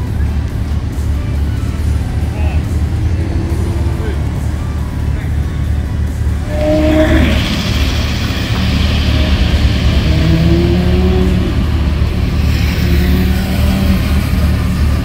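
Porsche Carrera GT engine revving at a Cars & Coffee meet in Manila, a loud rising mechanical roar that swells midway and holds over steady background crowd noise and talk.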